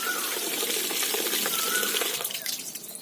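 An open water tap runs and overflows, a dense, steady gush of splashing water that stays loud and close throughout, thinning slightly near the end.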